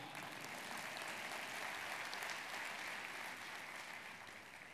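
An audience at a talk on digital citizenship breaks into sustained applause, a dense, even wash of clapping that holds steady and begins to fade at the end.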